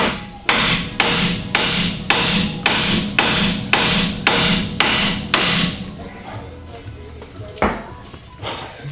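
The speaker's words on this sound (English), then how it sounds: "it with a hammer in order to break it off of the ball joint" A hammer strikes a steering knuckle ten times in a steady rhythm to break it off a car's ball joint, loud metallic blows followed by quieter shop clatter.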